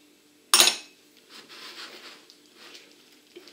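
Madeleine batter with milk just added is stirred in a bowl for savoury pesto madeleines, opening with a sharp utensil clink against the bowl, then soft wet swishing strokes, close and alone.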